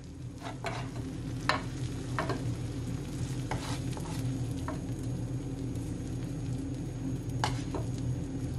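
Seafood for chow mein sautés in a pan, giving a steady low sizzle with scattered clinks and scrapes of stirring throughout, no voices.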